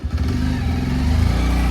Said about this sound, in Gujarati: બાઈક સાઈડમાં મૂકો